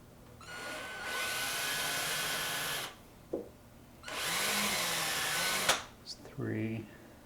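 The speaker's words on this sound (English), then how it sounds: "I'll put it on the floor so I can get a better angle with my drill." A power drill boring holes into an arcade cabinet lying on the floor: two sustained, loud whirring bursts of about two seconds each, separated by a pause, then brief lower motor sounds and a short voice.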